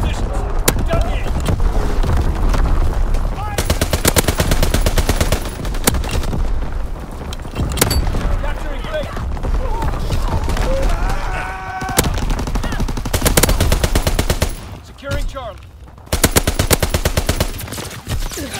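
Bursts of automatic gunfire and booming explosions from a Call of Duty WWII match, with repeated rapid strafing volleys separated by short lulls, loud and close throughout, with game voices briefly heard.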